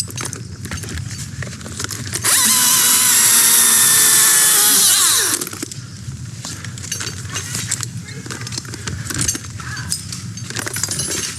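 A chainsaw cutting off a branch of a multi-stem tree during a solo climb, a loud steady burst of roughly three seconds that stands out over background noise.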